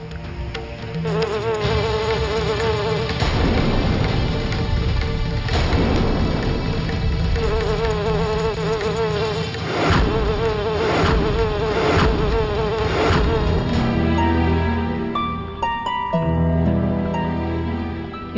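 A swarm of bees buzzing, a dense, continuous, loud drone that fills the whole clip and layers under dramatic music, with no talk.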